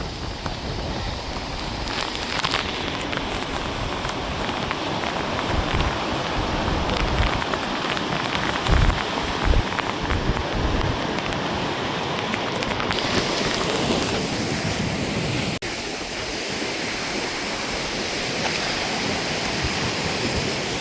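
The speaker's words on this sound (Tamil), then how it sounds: "இப்போ தொடர்ச்சியான காற்றும் மழையும்" Steady, dense rain pours down with a constant rushing hiss near the sea, heavy throughout with slight shifts in intensity and a gusty, blustery undertone of continuous wind.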